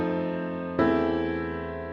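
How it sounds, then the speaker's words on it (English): A German augmented sixth chord held on a keyboard resolves to a cadential six-four chord. The first sustained chord moves to the next with a fresh attack, and the second chord rings on clearly. "This is the German augmented 6th."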